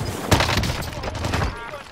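A quick volley of gunfire in Call of Duty: Warzone, a battle royale shooter: several sharp, loud shots in rapid succession within two seconds, close by, over game background noise.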